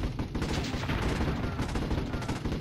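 Continuous gunfire from a machine gun tower in the real-time strategy game Warzone 2100, a dense, loud, steady rattle of shots with no pauses.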